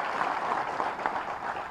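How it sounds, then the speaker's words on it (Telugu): Audience applause at a public speech on land acquisition, a steady dense wash of clapping from many hands sustained evenly throughout, moderately loud with no voices rising above it. "ఈ చప్పట్లు చాలా గట్టిగా చప్పట్లు కొట్టవలసిందిగా కోరుతున్నాం"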